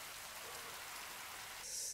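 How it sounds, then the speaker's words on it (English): Steady rain in a House of the Dragon episode, an even hiss of falling rain throughout with a brief brighter burst near the end. "why have they gotta make it raining and thunder and lightning?"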